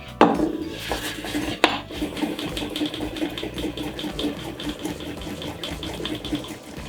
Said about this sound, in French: On râpe exactement le wasabi de la même façon.